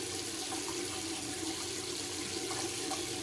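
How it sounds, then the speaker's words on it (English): Tap water runs steadily into a sink while a face is rinsed during a wet shave. The flow is close and continuous, a constant hiss and splash with no talking. "Let's wet the face, or at least wash off the face a bit."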